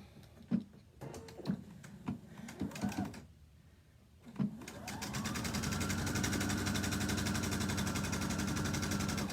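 A home sewing machine chain-stitches quilt border pieces for a piano keys border, starting after a few scattered clicks and handling noises and then running in a steady, loud, continuous whir of needle strokes for the last five seconds, with no talk.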